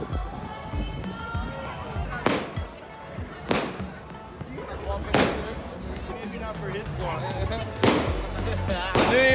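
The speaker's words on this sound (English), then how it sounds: "Going crazy with fireworks." New Year's fireworks in India: five or six sharp bangs burst at irregular intervals, fairly close and loud, over a busy background of people talking and crowd noise.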